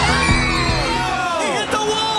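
A crowd of race fans cheers and yells at the Indianapolis 500, a loud dense roar of whoops and shouts with whistling voices rising and falling throughout.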